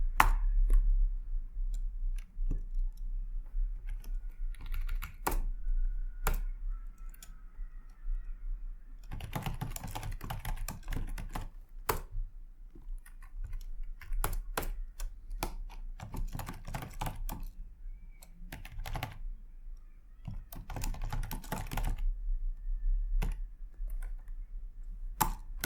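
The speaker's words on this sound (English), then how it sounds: "it's when we start typing an email" Someone types an email on a computer keyboard, producing close, crisp key clicks in irregular bursts and runs, with short pauses between flurries and a few isolated louder taps.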